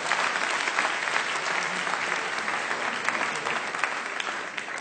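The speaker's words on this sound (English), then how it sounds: "Give them a round of applause." Audience at a TED talk on mental math breaks into a round of applause, a full, steady clapping crowd heard from a distance, continuous for several seconds without voices.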